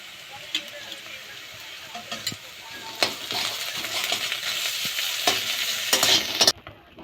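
Green chillies and ginger hit a hot pan for cabbage veg momo filling, crackling into a steady loud sizzle with spatula scrapes and clinks of stirring.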